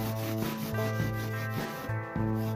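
Homemade beeswax mastic is rubbed into wood in rhythmic back-and-forth strokes, about five or six close, steady scrubbing passes with a soft, even friction sound and no voices.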